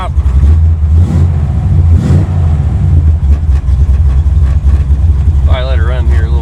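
A 1979 Chevrolet Malibu with a factory four-speed, pulled from a barn and run for the first time in years, idles steadily in a shop with a low, continuous engine rumble throughout, briefly joined by a warbling higher tone near the end.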